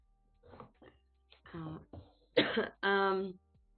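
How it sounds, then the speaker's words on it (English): Several short coughs and throat-clearing bursts from a nearby voice, building to two louder harsh coughs toward the end. "I have to cough"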